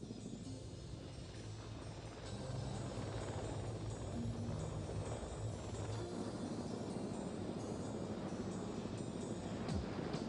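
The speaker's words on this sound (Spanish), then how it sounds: "reciben apoyo de los Puma, los helicópteros de asalto del ejército francés" Puma assault helicopters of the French army, a steady loud rotor and engine roar that holds continuously throughout, with no voices.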